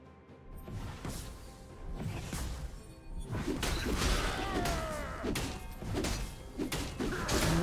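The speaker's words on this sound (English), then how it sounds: "Blue Team's turret has been destroyed." Heavy crashing thuds and whooshes as a turret is destroyed in League of Legends, with several impacts building up amid other game effects, moderately loud and layered over a busy battle soundscape.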